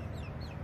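Meat chickens around twenty days old, raised on a farm, make a brief burst of soft clucking and chirping close by, over a low steady background hum.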